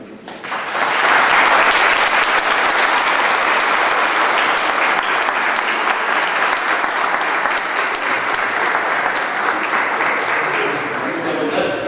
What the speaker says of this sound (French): Et maintenant, on va les applaudir.